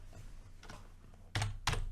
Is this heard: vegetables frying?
no